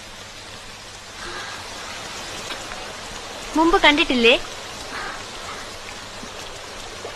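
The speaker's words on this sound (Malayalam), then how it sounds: "ഹായ്, മഴ." Steady rain falls in a soft, even hiss throughout, while a voice speaks briefly in the middle.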